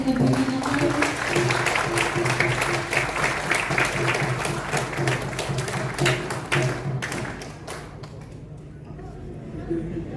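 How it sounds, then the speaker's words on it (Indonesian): Audience applause fills a work-meeting opening ceremony, steady dense clapping with voices and a held tone underneath, thinning toward the end. "Mari kita berikan aplaus."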